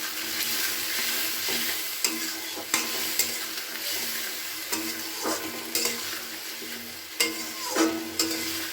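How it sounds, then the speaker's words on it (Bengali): Spices and chopped tomato sauté in a pan for a vegetarian banana flower curry, a continuous sizzle broken by repeated scraping stirs and occasional clinks of the spatula against the pan. "এটা কিছুক্ষণ কষিয়ে নিচ্ছি এটাকে"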